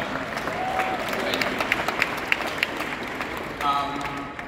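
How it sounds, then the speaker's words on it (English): Attendees at a leadership training session give a short, moderate round of clapping that swells slightly toward the end, with faint voices in the room beneath it. "Clap that for me."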